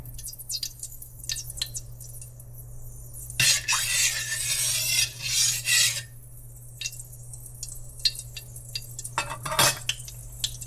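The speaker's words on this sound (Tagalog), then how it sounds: "simulan natin maggisa ng ating lulutuin. Medyo mainit itong kawali." Ampalaya with egg being sautéed in a hot wok, with scattered clinks and scrapes of a utensil on metal and a loud burst of sizzling as ingredients hit the pan midway, then quieter stirring.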